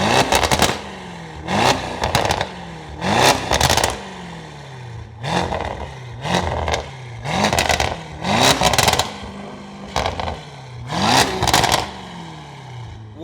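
A 2023 Aston Martin DBX Mansory heard from outside, its engine blipped in repeated sharp revs, about nine loud bursts rising and falling in a steady rhythm with brief pauses between.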